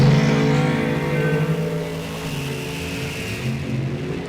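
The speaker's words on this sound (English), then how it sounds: "left side in the dragster, small block Chevy power" Small block Chevy-powered dragster roaring down a drag strip at a bracket race, a loud sustained engine drone with strong low harmonics that holds steady before easing slightly as it passes.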